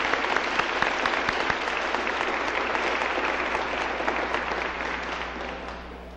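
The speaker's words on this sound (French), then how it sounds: "il mérite une bonne main d'applaudissements" Sustained audience applause inside a church, dense even clapping from many hands filling the room, slowly tapering toward the end.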